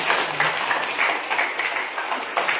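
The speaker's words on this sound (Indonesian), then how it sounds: "tepuk tangan dong." Audience applause at a community outreach meeting, a dense steady wash of clapping that fills the whole moment without pause.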